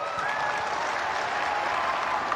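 A crowd applauds at a public speech during a project inauguration event in Assam, with steady, dense clapping filling the whole stretch at an even level and no talk over it.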